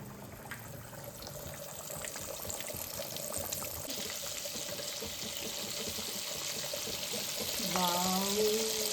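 Chicken pieces for Chicken 65 frying in hot oil, a continuous bubbling hiss that swells slightly toward the end, with a voice talking over it.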